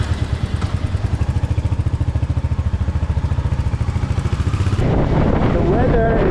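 Royal Enfield motorcycle ridden through Phnom Penh streets, its steady thumping engine pulsing loud and close, then shifting into a rougher, noisier roar with rushing wind near the end.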